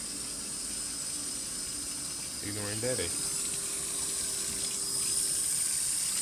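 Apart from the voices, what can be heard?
hot tap water running from a faucet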